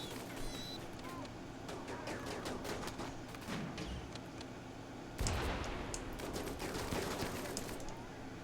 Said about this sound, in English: Somebody's got a really good machine gun.